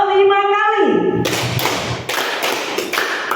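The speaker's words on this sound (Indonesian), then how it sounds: "Tepuk 5 kali." A school group claps hands together around five times in a quick sequence after a voice gives an instruction, ragged but loud group claps in an indoor room.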